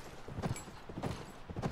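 Horse hooves galloping in The Last of Us video game, quick rhythmic clip-clop beats repeating in short bursts, fairly faint and alone.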